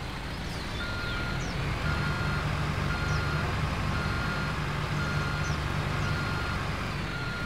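A truck in the Construction Simulator 3 video game reverses into a marked parking spot, a faint repeating backup beep sounding over a steady, loud engine drone throughout.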